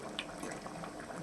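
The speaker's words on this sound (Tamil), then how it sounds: "இப்போ பாருங்க ரைஸ் குழம்பு நல்லா கொதிச்சு வந்துடுச்சு பாருங்கள்" A pot of karuvadu kuzhambu, a dried-fish curry, bubbles at a rolling boil, with a continuous close gurgle and an occasional sharper pop.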